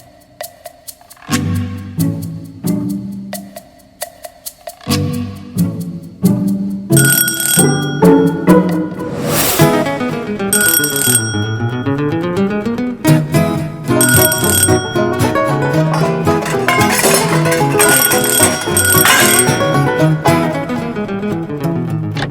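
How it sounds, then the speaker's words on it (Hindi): A doorbell at an apartment door rings over and over, its bright chiming tones stacking into a loud, continuous, overlapping jangle that lasts throughout with no voices. "है हम लोग घंटी पे घंटियां बजाई जा रहे हैं।"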